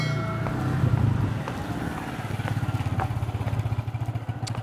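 A motorcycle taxi's engine putters close by as the bike rides up and idles, its low, rhythmic chugging pulsing steadily with some wind noise over it.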